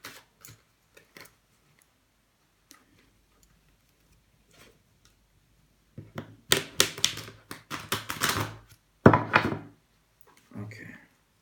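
A few soft taps, then a burst of rapid riffling and snapping as a deck of tarot cards is shuffled close by, ending with a light tap.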